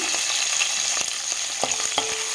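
Green chilies and crushed shallots frying in hot oil with mustard and cumin seeds for an amla rasam, a loud, dense, continuous sizzle with light stirring taps, close up and with no voices.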